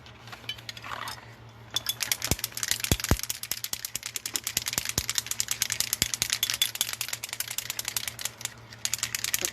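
A spray foundation can is shaken hard, its mixing ball rattling in a fast, steady, close clatter for several seconds, with no voices over it.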